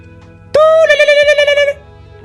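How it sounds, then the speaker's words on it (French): A mobile phone rings with a bright, melodic electronic ringtone that lasts a little over a second, loud and close over a faint background. "Ah, mon téléphone sonne."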